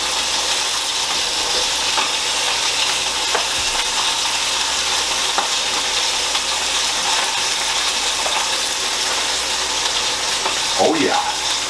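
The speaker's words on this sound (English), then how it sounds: "that's the sound of searing" Meat sears in an oiled pan with a steady, close sizzle that holds evenly throughout, with a few faint clinks near the end.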